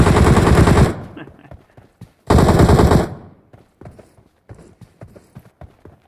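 Two loud, close bursts of automatic fire in PUBG Mobile Metro Royale, each lasting under a second, followed by scattered faint clicks and light taps as the shooting stops.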